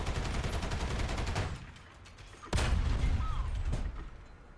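Object 490 tank cannon in a video game firing a heavy, booming round after a stretch of rapid gunfire, loud and close, with mechanical reload noises trailing off.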